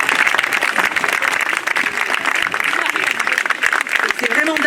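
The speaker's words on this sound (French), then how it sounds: "Je pense qu'on peut les applaudir vraiment super" An audience applauds world champions with loud, dense, continuous clapping that runs unbroken from start to finish, with voices mixed in.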